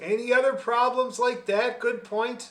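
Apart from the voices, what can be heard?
No everyday noises stand out.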